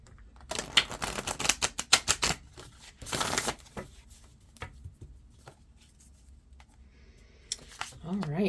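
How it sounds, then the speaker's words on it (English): Tarot cards shuffled by hand at close range in a series of quick, dense riffling bursts, a brief lull, then a second rustling burst before the shuffling trails off. "let's get these cards shuffled"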